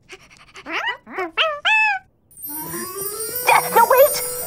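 A young dog whimpers in several high, rising whines, followed by a busier stretch of squeaky yips and tonal cries over background noise.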